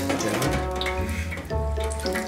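A Big Mac fries in deep fryer oil with a loud, continuous rushing bubble and sizzle, close up and steady, dipping briefly partway through before surging again.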